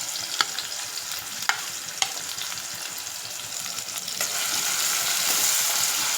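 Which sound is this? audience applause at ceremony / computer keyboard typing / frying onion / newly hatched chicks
frying onion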